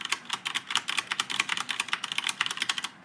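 Fast, even typing on a mechanical keyboard fitted with Cherry MX Brown switches, close and crisp, with a rapid run of distinct key clicks and no voices.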